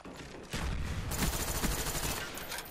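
Rapid, continuous FAMAS rifle fire in a video game, a loud unbroken burst of gunshots starting abruptly and running for about two seconds with no voices.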